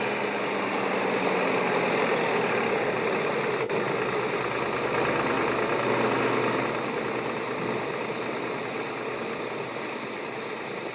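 A tractor engine runs at a steady idle in a village setting, its dense, continuous rumble holding loud and unchanging from start to finish with no voices.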